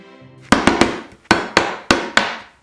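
A brad nailer driving 3/4 inch brad nails into wood for a small woodworking project: seven sharp, loud pneumatic cracks in quick irregular bursts, each followed by a short ringing decay, close and alone.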